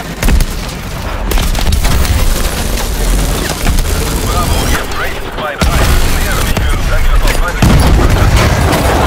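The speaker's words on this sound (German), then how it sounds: "Explosion! Hier fliegt alles in die Luft!" Heavy booms and bursts of gunfire erupt repeatedly in Call of Duty: Advanced Warfare gameplay while voices talk over the chaotic din.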